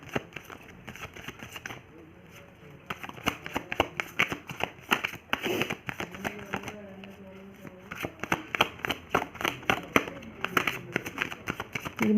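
Tarot cards riffle and shuffle in quick, dense bursts of sharp flutters and taps, close and fairly loud, with a few short pauses, a voice speaking now and then over the shuffling.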